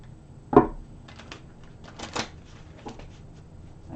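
A short riffle of cards early on, followed by softer scattered card handling and light taps in a quiet room.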